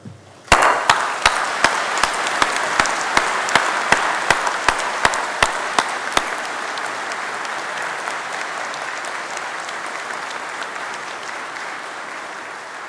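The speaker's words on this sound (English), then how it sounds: "they deserve a proper round of applause for that" Graduation ceremony applause in a large hall: a few loud, evenly spaced claps from one nearby pair of hands ring over a broad, sustained crowd ovation that swells quickly and then slowly fades over several seconds.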